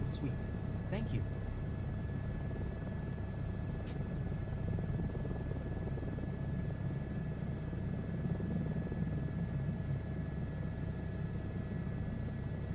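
A helicopter flying in a video game, heard as a steady low rotor rumble and drone that holds constant and fairly faint, with a few light clicks over it.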